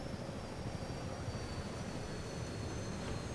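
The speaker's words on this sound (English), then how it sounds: "That's a jet I hear." Jet aircraft engine roaring overhead during a battle in the ARMA military video game, a steady distant broadband rumble that holds level throughout with no voices.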